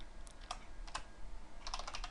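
A computer keyboard is being typed on while writing C++ code, giving a few quick, sparse clusters of light clicking keystrokes at a soft, close level. No other sound competes with them.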